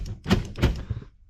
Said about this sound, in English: Sounds like the door lock actuators.